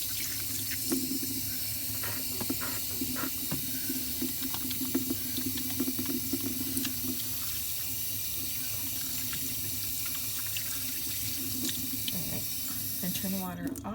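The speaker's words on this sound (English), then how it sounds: "I'm going to wash my hands to remove any bacteria" Hands being washed under a running tap in a lab sink, a steady wash of water that carries on throughout.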